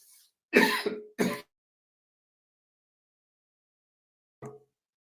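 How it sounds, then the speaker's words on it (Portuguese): Two harsh throat-clearing coughs in quick succession, close and loud, then silence and a brief faint cough near the end. "Perdão, me deu um pequeno ataque de tosse aqui."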